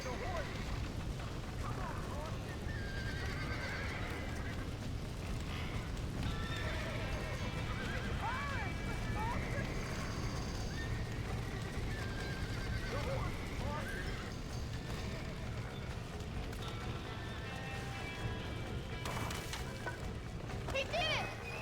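Horses whinny and neigh inside a barn in the video game Red Dead Redemption, several high calls scattered over a low rumbling bed with clopping hooves, fairly faint overall and mixed with voices talking.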